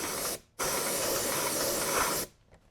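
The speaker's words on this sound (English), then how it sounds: "Let's spray some orange and do an unveil." A can of orange spray paint hisses in two bursts onto an RC car body, a short one then a longer continuous spray of about two seconds, close and loud, with no voices.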